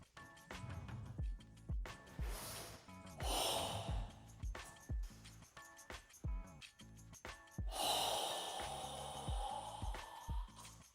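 Forceful, rhythmic breathing during a Goju Ryu Sanshin karate kata, with sharp gasps, snorts and long hissing exhales repeating close to the listener, alone without talk.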